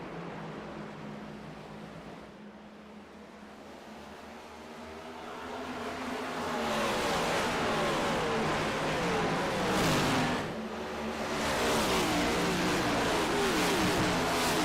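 Engine roar of simulated race cars in iRacing at Bristol Motor Speedway, swelling from a steady drone into loud, dense acceleration as the field takes the green flag, with a brief dip before surging again.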